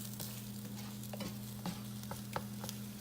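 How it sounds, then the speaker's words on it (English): Chorizo and eggs are stirred in a frying pan, a spatula scraping in irregular strokes over a soft sizzle and a steady low hum, close up and with no talking. "So we're just gonna keep stirring and stirring."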